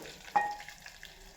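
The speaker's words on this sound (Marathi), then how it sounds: "हे आपलं घरातील तिखट आपण भाजून घेणार आहोत" Homemade chili powder roasts in hot oil with garlic, curry leaves, cumin and mustard seeds, making a soft low sizzle and one brief stir clink near the start.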